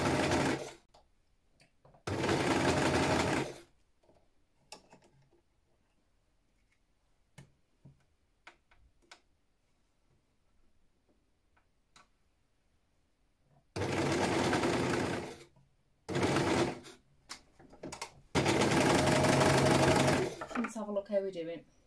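A sewing machine stitches along the bottom edge of a bra in several loud, steady bursts of motor whir, separated by pauses in which someone talks and small clicks are heard.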